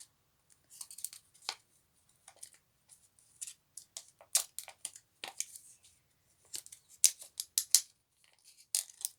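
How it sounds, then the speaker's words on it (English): Scissors trimming the edges of a plastic piece, with short, crisp snips coming in quiet, irregular bursts close by and silence in between. "if there's any edges that you don't like, just trim them off"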